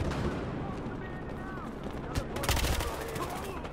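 A frag grenade goes off in Battlefield Hardline amid a dense, continuous wash of gunfire and battle noise, with voices faintly present under the loud din.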